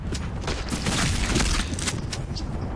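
Rapid gunfire in the online shooter Black Squad, a dense fusillade of close, loud shots crackling continuously for a few seconds.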